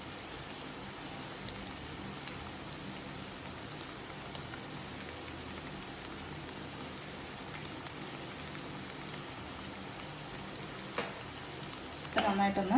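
Vegetables sauté in a pan with oregano and rosemary for a chicken salad, giving a steady, moderate sizzle that runs throughout with a few light stirring clicks and a brief clatter near the end.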